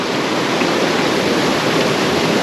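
A mountain torrent on the Tour du Mont Blanc trail, a loud, dense, unbroken rush of white water close by, filling the whole clip with no voices.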